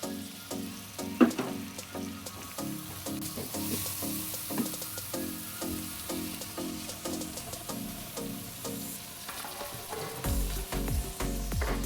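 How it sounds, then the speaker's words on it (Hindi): Spices frying with tomatoes, potatoes and slit green chilies in a pan, a close steady sizzle punctuated by regular clinking stir strokes, with no voices. "ये मसालों की भुनाई हो जाए, थोड़ी सी खुशबू आने लगे"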